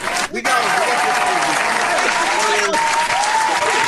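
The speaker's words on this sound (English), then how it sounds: "Round of applause right now." A round of applause and cheering from a crowd, dense and continuous throughout, with a short dip near the start.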